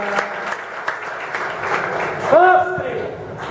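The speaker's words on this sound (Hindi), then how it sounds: "तालियां तालियां।" An audience claps in a brief burst of applause during a motivational talk for students, with a voice speaking over the steady patter of hands.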